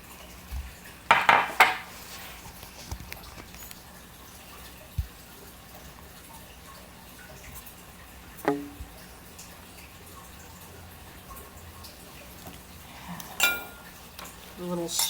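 Food stirred in a pan with paprika tossed in, heard as a few sharp metallic clinks and scrapes of a utensil against the pan between quiet stretches, in a home kitchen.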